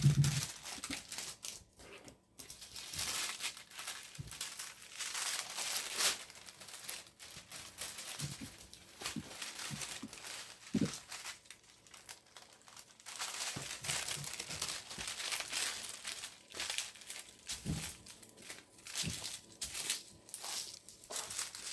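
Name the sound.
untaping a paper pattern from the table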